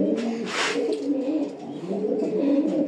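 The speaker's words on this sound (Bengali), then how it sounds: "এই যে নর কবুতরটা দেখেন ভিউয়ার্স, নরের চোখটাও দেখাইতেছি" A male club racing pigeon gives low, rolling coos close by, repeated steadily through the moment with a brief rustle early on and no voices.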